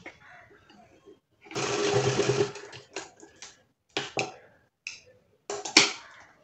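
A sewing machine stitches a small fabric mini bag in short bursts, one longer run of rapid stitching followed by several brief stop-start runs, close and clear.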